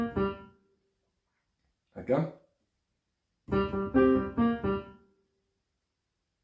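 A two-handed blues groove played on piano, a riff moved over from guitar: a short opening phrase, a brief second stab, then a sustained run of stepping chord notes, close and moderately loud with silent gaps between.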